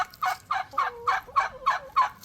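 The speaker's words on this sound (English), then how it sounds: "The chickens are doing well." A run of about eight rhythmic, throaty calls from poultry, close and loud, repeating at a quick steady pace with no talking.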